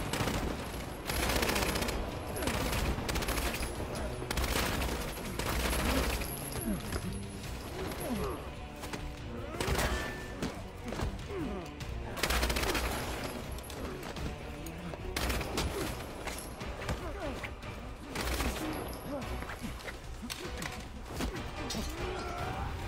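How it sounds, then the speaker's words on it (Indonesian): Rapid bursts of gunfire and a chaotic fusillade of shots ring out continuously, mixed with crashes, impacts and dense action noise, in the animated film Resident Evil: Vendetta. "Aksi tembak-tembakan pun terjadi antara keduanya."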